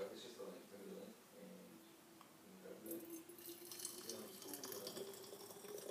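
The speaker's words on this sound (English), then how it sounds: "Hot water goes in." Hot water pours into the top of a syphon coffee maker: a soft, continuous trickle that grows brighter and splashier as it fills, close and fairly quiet.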